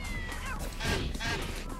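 A cat meows in the video game Tokyo Jungle, a couple of short, fairly loud cries over a busy game soundscape, with no talk.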